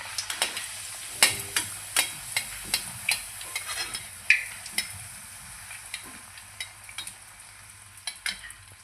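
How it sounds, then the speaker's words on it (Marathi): Kadakni, a puffed Marathi fried puri, crackles in hot oil. A soft, steady sizzle runs underneath frequent sharp ticks and taps from the frying and the utensil against the pan, close and moderately quiet. "चला आता आपण तळून घेऊया. तेल गरम झालेलं आहे."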